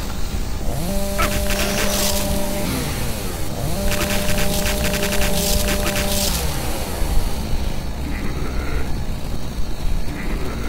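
A chainsaw revving in Doom 3, a loud buzzing motor whine that rises and falls in two long bursts amid heavy game noise, with further clatter and rumble trailing off afterward.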